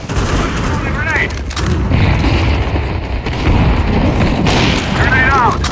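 Gunfire and explosion-like booms in a Counter-Strike 2 match as a grenade is thrown, loud and dense throughout, with radio-style voice chatter over the action.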